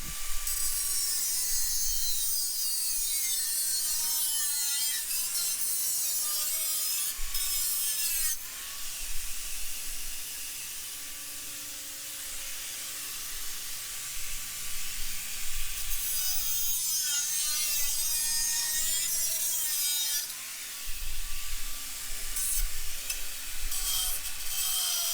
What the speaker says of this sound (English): we'll go ahead and get the grinder and cut it